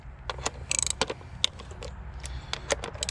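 Ratcheting and clicking of a wrench breaking loose small 10mm ignition coil bolts on a 2.5L Nissan Altima engine, with several sharp close metallic clicks and creaks scattered over a low background.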